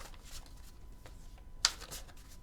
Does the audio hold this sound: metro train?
no